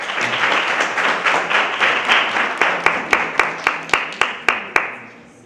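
A science debate audience gives a round of applause, dense clapping that thins out over several seconds into a series of separate, sharp claps from a few remaining people.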